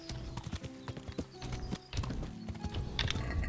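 Horse hooves in the video game Kingdom Come: Deliverance clip-clop in a quick, uneven rhythm, close and clear, with occasional clattering steps layered over one another.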